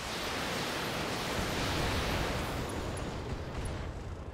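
Mech weapons fire in the Battletech video game, heard as a dense, steady roar of noise that holds at an even, loud level for several seconds with no clear separate shots.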